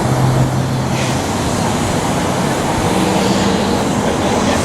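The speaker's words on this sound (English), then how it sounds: "We're going on the train." A steady, loud rumble of a moving train fills the whole stretch, with constant low-frequency roar and a faint hum rising briefly, no voices.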